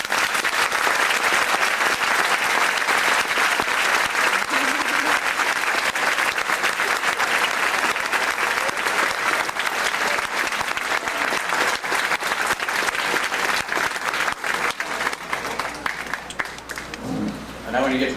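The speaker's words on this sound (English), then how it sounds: "we owe all the Probies a nice round of applause and congratulations to all" A large audience at an FDNY probationary firefighter swearing-in ceremony gives long, continuous applause, a dense roar of clapping that holds steady for most of the stretch, then begins to thin out toward the end.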